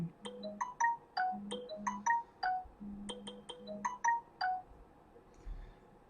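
A phone ringing with a bright electronic ringtone, repeated chirping melodic bursts in two groups, fairly close and clear with no talking over it.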